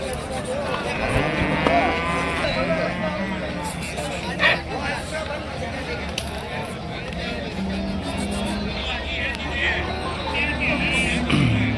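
Cattle moo at a busy Sunday-morning bull market in Ranebennur, several drawn-out calls rising over a steady murmur of crowd chatter and nearby conversation, with traffic noise in the background.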